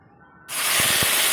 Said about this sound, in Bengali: এবার আমাদের তেলটা গরম হয়ে গেছে, আমি মশলাটা ছেড়ে দেবো।